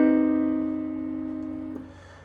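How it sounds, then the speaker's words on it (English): A single minor major seventh chord is struck on a piano and left to ring, its sustained tones slowly fading before a faint soft knock near the end. "Next we have the minor major seventh chord."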